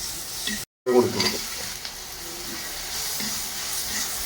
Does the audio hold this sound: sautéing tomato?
yes